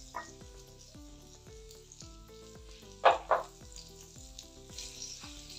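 Onions fry for a masala with a close, crackling sizzle, broken by occasional spatula stirs and two sharp scraping knocks in the middle. Background music plays underneath, and no one speaks.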